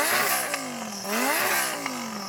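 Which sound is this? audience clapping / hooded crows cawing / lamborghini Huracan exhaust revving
lamborghini Huracan exhaust revving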